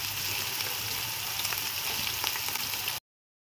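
Chicken meat fries in a pan with a steady, bright sizzle and crackle that runs evenly for about three seconds before cutting off to silence.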